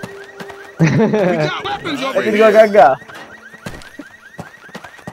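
A car alarm in Left 4 Dead 2 wails in a steady repeating pattern throughout, partly buried under loud laughing and talk from players in the middle stretch.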